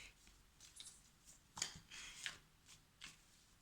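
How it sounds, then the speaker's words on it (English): Tarot cards are shuffled by hand nearby, a series of soft riffling and slapping bursts in irregular rhythm, faint and alone in a quiet room. "I just want to finish shuffling."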